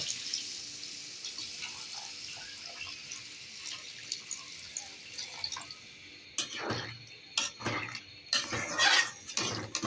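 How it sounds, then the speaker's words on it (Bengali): Water poured into a pan of simmering chicken gizzard and liver curry: soft bubbling and dripping at first, then several louder splashing gushes near the end, close by. "এখন ঝোলের জন্য পানি দিয়ে দেব।"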